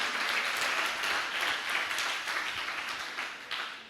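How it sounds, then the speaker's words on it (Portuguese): A church congregation claps together during a miracle service, a dense, steady wash of applause that holds strong and tapers slightly toward the end, with no voices standing out. "Aplauda o Senhor que Ele merece toda a honra, toda a glória no nome dEle."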